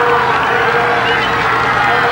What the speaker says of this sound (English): the crowd giving them a round of applause as they come through